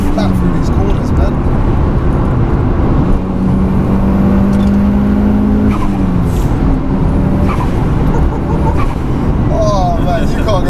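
A 21-year-old Mitsubishi Evo 6 runs hard through corners, its engine loud and sustained with the pitch sliding up as turbo boost builds, and brief tyre-squeal touches over a constant roaring drive.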